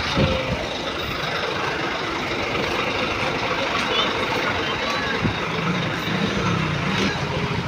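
A vehicle engine runs steadily after driving through floodwater, a continuous rumbling drone close by, with people talking over it.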